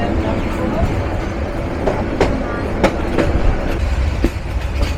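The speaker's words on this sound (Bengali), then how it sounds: "412 কিলোমিটার রেলপথ অতিক্রম করে আমরা এখন বামনডাঙ্গা স্টেশনে" The Rangpur Express, running from Dhaka to Rangpur in Bangladesh, rumbles along its rails with a continuous roar and rhythmic clickety-clack of wheels over rail joints, heard from inside the moving train.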